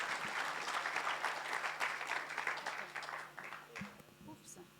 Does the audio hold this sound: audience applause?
yes